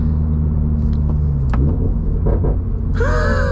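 A 2024 Subaru BRZ Limited engine rumbles steadily up close, with a few brief crackles during rev matching and a sharp rising whine near the end.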